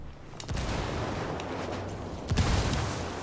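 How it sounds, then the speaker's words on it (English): Frag grenade exploding in the Ghost Recon Wildlands video game, a loud booming blast with rumbling low end and a second heavy burst shortly after, set in the game's dense combat noise. "Grenade! Fragging out!"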